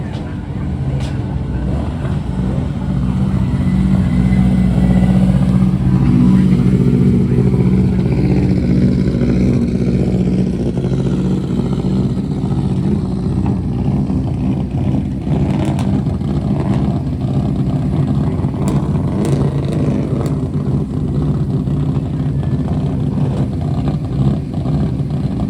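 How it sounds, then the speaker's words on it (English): The Colin McRae Subaru rally car, driven by Colin McRae's father, roaring steadily past on a hillclimb at a classic nostalgia event, a loud sustained engine drone with crowd noise beneath. "There is the Colin McRae Subaru, driven by Colin's dad himself, Mr. McRae."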